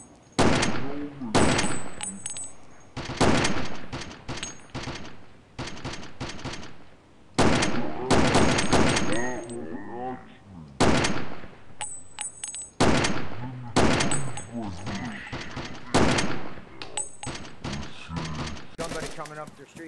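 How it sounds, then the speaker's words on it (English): Gunfire in DayZ Standalone comes as repeated loud sharp shots in irregular bursts and single cracks throughout, with players talking between and over the shots. "Somebody just shot him. Did you shoot?"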